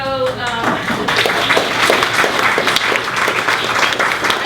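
Audience applause at a speaker-series talk, a loud, dense burst of clapping from a room of listeners that swells in after a brief moment of voice and carries steadily to the end.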